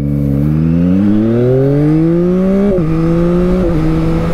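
A Harley-Davidson Sportster S motorcycle accelerating hard, its engine rising steadily in pitch through the gears with brief dips at each upshift, loud and close with a continuous roaring drone and no talk.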